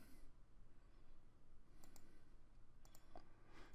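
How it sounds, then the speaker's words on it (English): Computer mouse right-clicking while working in Excel, a few faint isolated clicks spaced apart against a quiet room background. "I'm right-clicking inside here again."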